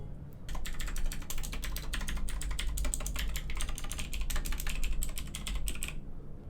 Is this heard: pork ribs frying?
no